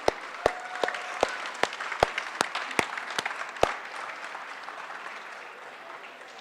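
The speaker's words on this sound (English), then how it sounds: "Once again, round of applause for all our contestants and a louder applause for Gabby." Studio applause for radio quiz contestants, a modest mixed patter of clapping with several sharp, close individual claps standing out. It fades to quiet over the last few seconds.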